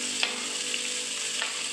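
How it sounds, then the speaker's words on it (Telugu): Sliced onions frying in a spoonful of oil in a pan for an Andhra-style fish curry, a steady close sizzle with a couple of faint stirring scrapes. "ఒక స్పూను ఆయిల్ వేసి 2-3 ఉల్లిపాయలు ఆయిల్లో వేసి వేయించుకోవాలి."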